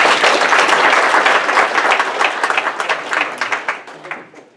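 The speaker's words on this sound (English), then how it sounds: "Matt, come on in for a round of applause." A room full of people at a Summer Creek business gathering applauds to welcome a speaker, loud and dense clapping at first that gradually thins and tapers off toward the end.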